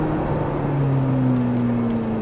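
A Ferrari 458 Italia on the Mérignac circuit holds a loud, steady engine drone with a strong tonal hum, heard continuously from close inside the car.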